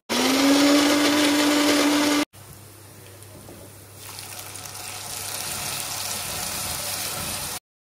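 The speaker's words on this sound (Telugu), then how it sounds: "సో ఇవంతా వేసుకొని మనం గ్రైండ్ చేసుకోవాలి" A mixer grinder whirs loudly on coriander, mint, ginger and onion for about two seconds, then stops abruptly; a quieter hum and soft hiss follow, with the background noise rising slightly toward the end.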